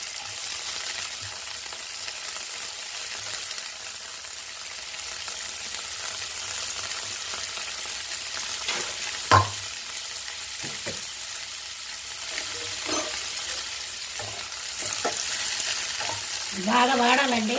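Tender nalleru stems frying in a little oil for a chutney, a close, steady sizzle with scraping stirs and occasional clatters, growing a bit louder toward the end with no talk.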